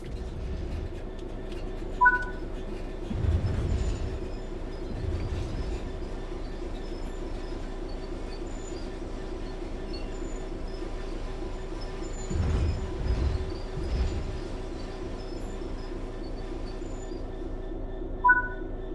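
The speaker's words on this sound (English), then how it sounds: "Bring this train to a complete stop by holding the brake control in the apply state" A train in Train Sim World 3 rumbles along and slows on the rails, with low heavy rolling surges and a few faint squeals, steady and continuous throughout.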